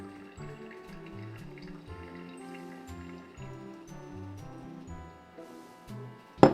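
Warm water runs into a small bath for loosening food from a container, a faint, close trickle and splash with light tinkly tones, ending in a brief louder clunk.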